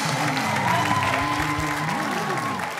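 A studio audience on a game show claps steadily for the green team, sustained applause under upbeat show music with a little crowd noise.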